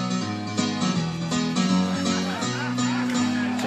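A guitar played through a MIDI pickup set to a piano voice, layered chords and a steady bass line ringing continuously at moderate volume, with no speech.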